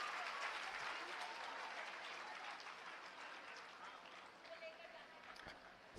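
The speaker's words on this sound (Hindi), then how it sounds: "एक बार जोरदार ताली इन बच्चों के लिए बजाएं हम लोग" Crowd applauding schoolchildren of a band at a school building inauguration, a sustained wave of clapping that fades gradually, with some voices mixed in.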